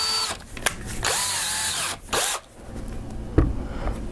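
A power drill bores a pilot hole during a DIY multi-color T-shirt printer build, whirring loudly in two close bursts that ramp up and cut off, followed by softer handling clatter.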